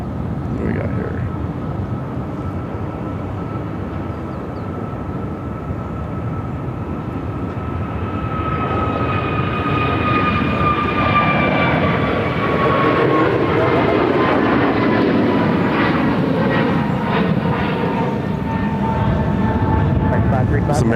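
An airliner rolls along the runway at Phoenix airport, a steady engine roar that swells and rises in pitch over about twenty seconds.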